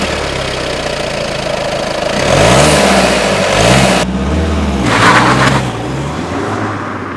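A VW Golf GTD diesel engine idles, then revs up in a few swelling bursts before settling, loud and close, with a sharp shift partway through and no talking over it.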